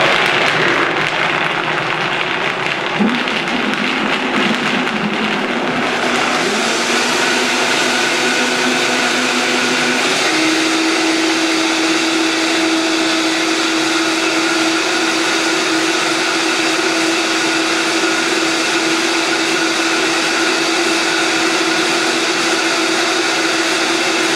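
A blender whirs up a blueberry vegan smoothie, its loud steady motor rising in pitch after a few seconds and holding a continuous high drone for the rest of the clip, no talking.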